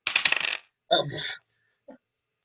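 Dice in a tabletop Dungeons and Dragons game clatter onto a hard surface in a quick rattling burst, then skitter away with a second tumble and a faint final tick, close and fairly quiet.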